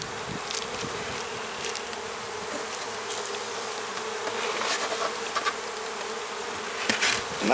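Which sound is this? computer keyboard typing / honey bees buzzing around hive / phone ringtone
honey bees buzzing around hive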